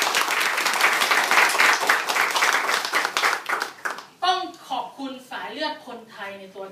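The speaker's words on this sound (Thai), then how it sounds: "ขอเสียงปรบมือ" An audience at a Thai business presentation applauds a company chairman with dense, sustained clapping for about four seconds, after which someone speaks.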